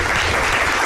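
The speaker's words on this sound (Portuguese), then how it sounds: "palmas ao Vôlei Campinas" A brief burst of dense, steady applause for the Vôlei Campinas volleyball team, filling the moment evenly with no gaps.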